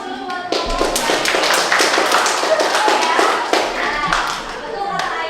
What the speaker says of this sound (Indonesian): Kasih aplaus dulu buat kelompok.